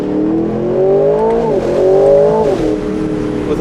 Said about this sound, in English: with an OPF filter and all the new regulations, this sounds pretty awesome